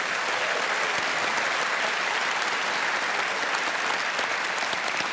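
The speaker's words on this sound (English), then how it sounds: "You can give yourselves a quick round of applause" A festival audience applauding, a dense, even wash of many hands clapping at once, loud and sustained throughout.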